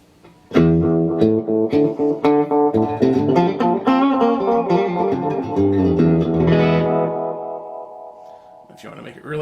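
An electric guitar played through a JMK Hamlet delay pedal set for a short slapback echo, with distorted chords and riffs that repeat quickly, loud and close.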